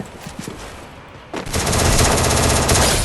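M60 machine gun fire in a shooting video game, a brief muffled shot or two then a loud, sustained rapid burst of continuous automatic fire filling the second half.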